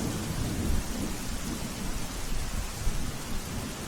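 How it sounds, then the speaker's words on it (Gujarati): Heavy rain pours steadily in Ahmedabad, a dense, continuous hiss with low thunder rumbling underneath throughout, with no voices present. "લાંબા વિરામ બાદ અમદાવાદમાં ફરી એક વખત વરસાદની ધમાકેદાર શરૂઆત થઈ છે."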